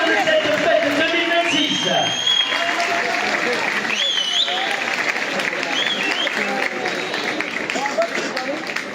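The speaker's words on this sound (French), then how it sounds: "Allez, tournez l'applaudissement pour la famille Sade, s'il vous plaît." An audience applauds the Sade family at a village fête in Lansargues: dense, steady clapping mixed with crowd noise runs loud and unbroken throughout, with a few whoops rising above it.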